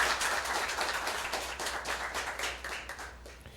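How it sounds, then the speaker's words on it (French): At a school quiz competition, an audience claps for both teams. The applause is close, fairly loud, continuous rapid clapping that eases slightly toward the end, with no talking over it. "Mais maintenant nous vraiment applaudir tous les deux équipes pour nous."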